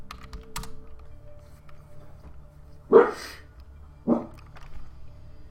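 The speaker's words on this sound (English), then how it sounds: "Dog." A dog barks twice, about a second apart, sharp and fairly close against a quiet background with light keyboard tapping.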